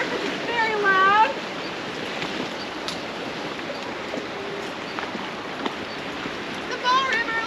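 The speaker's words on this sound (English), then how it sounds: "right beside the river because it's very loud" The glacier-fed Bow River rushes past in Banff, a steady broad hiss of fast water heard up close, with faint chirping birdsong at the start and end.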